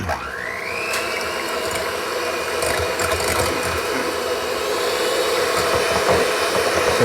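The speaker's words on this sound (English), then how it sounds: "So we'll just use the electric beaters." Electric beaters whir steadily as about two-thirds of a cup of sugar is worked into a rice-flour chocolate pudding batter, a continuous motor hum that rises in pitch at the start and then holds, loud and close, with no talking.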